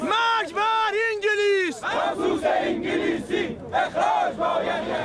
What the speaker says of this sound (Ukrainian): Натовп вигукував гасла на кшталт смерть Британії